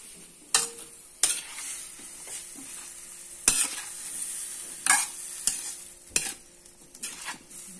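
Fish frying in a pan in a home Indonesian kitchen, a steady close sizzle with sharp clinks and scrapes from stirring at irregular intervals.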